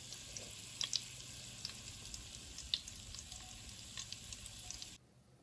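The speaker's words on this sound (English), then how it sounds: "I'm just gonna throw in this whole stick of butter." A whole stick of butter dropped into heated oil for apple fritters, giving a soft, steady sizzle with a few small pops and crackles, fairly faint, before cutting to near silence.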